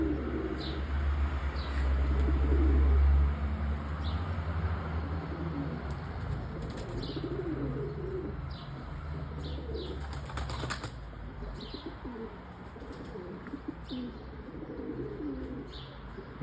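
Pigeons in a coop cooing steadily over low murmuring, with bursts of wing flapping and short chirps scattered across the stretch; a voice is heard faintly in the background.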